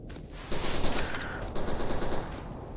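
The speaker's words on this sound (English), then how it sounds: "the gunfire was just playing in my left ear there" Gunfire from a depot in the shooter game Stalker Anomaly crackles in bursts of rapid automatic fire with scattered single shots, fairly distant and heavy, in two main clusters with no speech.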